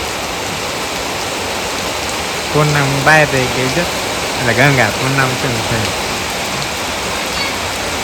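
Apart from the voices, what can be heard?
rain falling in sunshine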